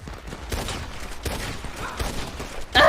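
Gunfire in the RedM Red Dead roleplay game cracks out as a series of sharp shots about every three-quarters of a second, moderately loud over a busy, noisy background.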